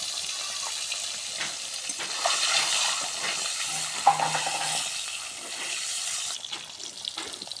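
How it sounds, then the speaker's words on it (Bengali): Eggs fry in hot oil with a little turmeric, giving a steady, close sizzle with intermittent stirring scrapes across the whole stretch and no talk. "ডিমগুলো ভাজা নেব,"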